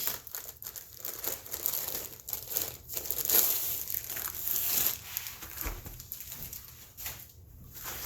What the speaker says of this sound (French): Donc, ça vient toujours dans un sac plastique.